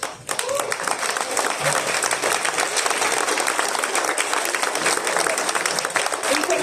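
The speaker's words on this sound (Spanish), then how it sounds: "Aplauso para nuestros ponentes inaugurales" An audience applauds the inaugural speakers at a Spanish-language evening event, a sustained burst of many hands clapping that starts abruptly and stays dense and strong to the end.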